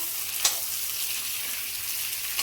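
Onion, capsicum, green chilli and garlic fry in a kadai for kadai paneer, giving a steady, even sizzle throughout with a couple of brief stirring scrapes and no voices.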